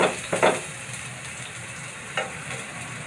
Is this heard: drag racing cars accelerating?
no